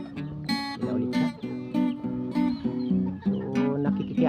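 Junglefowl and domestic chickens cluck repeatedly at close range while pecking at scattered cooked rice beside a hut, with soft rhythmic clucks in steady bursts.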